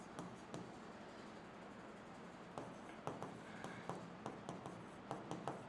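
Chalk or marker writing on a board during a biology class, faint scratchy taps and strokes in small irregular clusters against a quiet room background.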